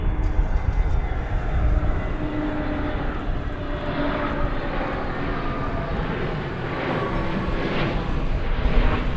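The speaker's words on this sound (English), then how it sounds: "It's an Airbus A320neo arriving from Denver, Colorado." A Frontier Airbus A320neo jet arriving at DFW Airport from Denver, a steady broad engine roar holding loud and even throughout, with a faint voice underneath.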